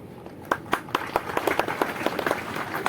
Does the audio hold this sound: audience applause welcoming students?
yes